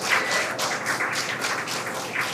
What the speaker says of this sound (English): The crowd here at Mission Control in Hawthorne cheering.